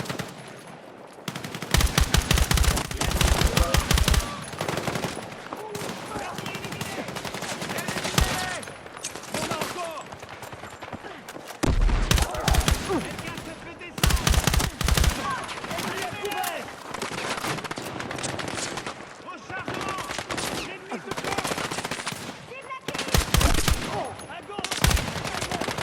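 Rapid automatic gunfire and single shots from the Battlefield 6 campaign, loud bursts recurring across the stretch with short lulls between, mixed with game effects and under brief spoken voices.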